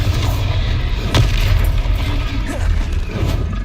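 A booming fire spell blast from the Hogwarts Legacy video game rumbles loudly and continuously beneath combat effects, with a sharper burst partway through.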